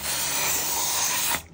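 Silicone lubricant sprayed from an aerosol can into a Sentro 22 sock knitting machine, a single loud, close, continuous hiss lasting over a second that stops abruptly.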